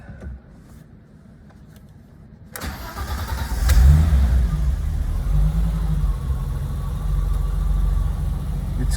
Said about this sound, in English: Okay, cold start.